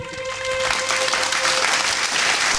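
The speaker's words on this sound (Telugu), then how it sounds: "గట్టిగా చప్పట్లు కొట్టండి, గట్టిగా" A church audience claps loudly and steadily, a dense continuous burst of applause close by with no speech over it.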